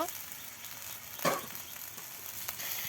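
Fried okra and potatoes tipped into a pan of spiced oil with bay leaf, coriander and cumin powder, giving a soft steady sizzle with one brief louder burst of frying partway through.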